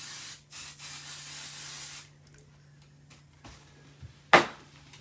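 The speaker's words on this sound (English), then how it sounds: "I'm just spraying this into my trash can that's right here so it doesn't get onto anything" Basting spray hisses into a trash can in a sewing space, a couple of short sprays followed by a sharp, close final burst.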